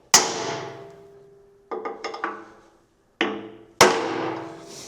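Sharp metallic hammer strikes tapping a center punch into metal, ringing out, four or five taps in an uneven rhythm, each followed by a brief decaying ring, close by.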